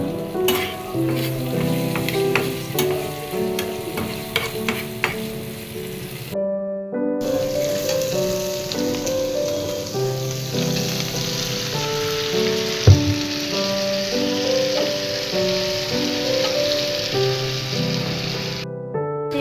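Bitter gourd (karela) frying in a pan, a dense steady sizzle with stirring scrapes and clinks, briefly cut off then resuming loud and close.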